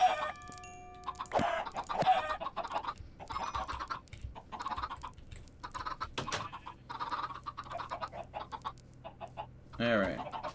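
Chickens clucking and squawking in a pirate-themed farming video game, a string of close, sharp clucks and calls in irregular bursts, with a person talking over some of them.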